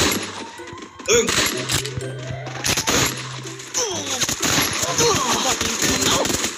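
Gunfire from bots in the video game Free Fire crackles in repeated bursts of shots amid a busy game mix, with someone talking over much of it.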